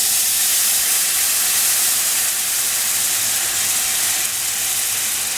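Red wine poured into a hot pan with lamb chops and charred shallots, raising a loud, steady hiss of steam that is broad and constant and carries on without a break.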